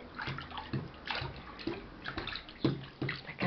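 Water sloshes and splashes in a small bath as a baby's feet are washed, with soft irregular splashes recurring every half second or so at close range; no talking is heard.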